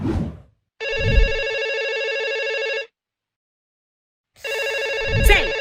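A landline telephone rings in two loud electronic bursts, each about two seconds long, separated by a silent gap, close and clear with no talk over it.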